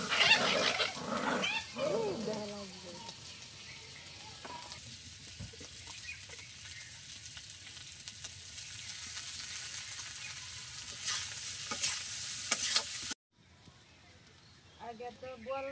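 Potatoes frying in a pan on a home stove, a faint sizzle running under scattered clatter and a few loud knocks and bumps, with a brief dropout near the end.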